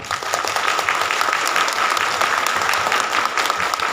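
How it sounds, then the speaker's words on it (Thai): Loud, sustained applause from a seated audience at an awards ceremony handing out plaques and certificates, many hands clapping densely and evenly close by for the whole stretch. "ขอบคุณตัวเองอีกครั้งด้วยเสียงปรบมือได้ไหมครับ"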